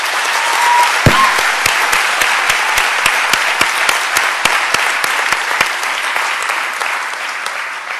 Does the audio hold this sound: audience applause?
yes